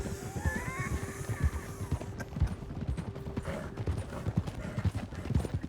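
Horse hooves clip-clop steadily in the western video game Red Dead Redemption, with a rhythmic trot and faint creaking tack over a soft outdoor ambience, and no one speaking.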